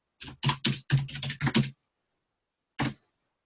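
Quick bursts of typing on a computer keyboard, a run of close clicking keystrokes followed by a pause and one final tap, with no talk.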